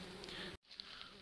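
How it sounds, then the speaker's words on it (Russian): Horseflies and flies buzzing around an outdoor excavation dig, a steady close insect drone that fills the short clip with only a brief gap. "Ох, ребята, сколько оводов, мух. Слышите эти звуки страшные?"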